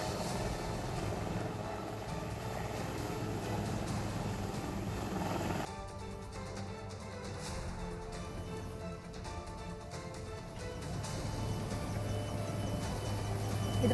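A helicopter flies overhead during a flood rescue operation in Dharashiv district, its loud, steady rotor and engine drone continuing throughout with a brief shift in tone midway.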